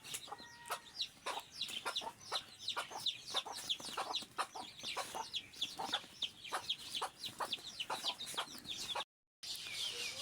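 A native village hen and her newly hatched chicks cluck and cheep in a quick, busy run of calls that continues for about ten seconds, close up and clear, with one brief dropout near the end and no talking.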